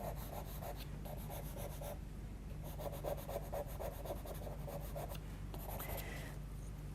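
Derwent charcoal scratching across paper in quick rhythmic strokes, coming in short bursts of rapid back-and-forth rubbing, close and faint over a low steady background hum.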